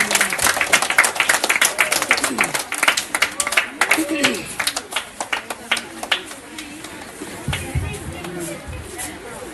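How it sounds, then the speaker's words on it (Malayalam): An audience claps for a student at a club's school-supplies distribution event, with brisk applause that fades over several seconds while chatter and a voice carry on underneath. "നല്ലൊരു കയ്യടി."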